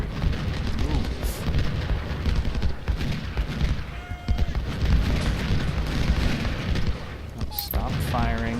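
Dense, continuous booms and crackling volleys of artillery and musket fire in the Ultimate General: Civil War strategy game, rolling without pause and loud throughout, with a few brief tonal blips over the battle din.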